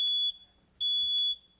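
A photoelectric smoke detector alarm shrills in loud, piercing high-pitched beeps, two long pulses separated by a short gap, with faint room noise between them during a smoke test.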